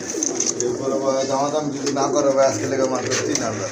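Pigeons coo repeatedly in a series of soft, throaty, warbling calls, close and clear, with a voice speaking over them.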